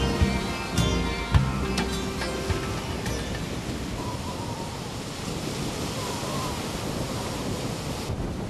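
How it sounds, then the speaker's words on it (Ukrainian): Black Sea waves roll onto the shore in a steady, soft wash of surf mixed with wind noise, fairly quiet and continuous, with a few faint clicks near the start and no voices. "І вже перед вами хвилі Чорного моря."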